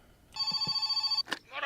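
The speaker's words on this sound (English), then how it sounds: "Phone call." Telephone ringing in the video game My Summer Car, a bright electronic bell tone sustained for about a second at moderate level, followed by a short click and brief noise at the end.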